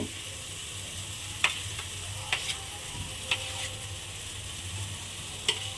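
Mashed potato is stirred into a chili and turmeric spice mixture in a pan, giving a constant low sizzle punctuated by a few sharp scrapes and clicks of the spoon against the pan.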